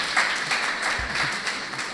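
An audience claps at a white coat ceremony in a short, fairly loud burst of dense, continuous applause that fills the room.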